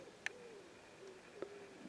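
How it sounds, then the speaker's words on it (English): Wood pigeons coo softly in the countryside near Ewhurst Green, a few faint, distant calls against a quiet outdoor background. "here I am on my own with the sounds of nature, wood pigeons all over the place"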